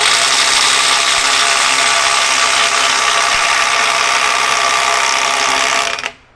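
NEIKO 20V 3/8-inch brushless impact wrench, model 10880A, hammering steadily at a bolt to break it free, a loud continuous rattling buzz held for about six seconds before cutting off abruptly.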